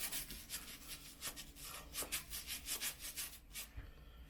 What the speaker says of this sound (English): Just scrub this part right here, the front side.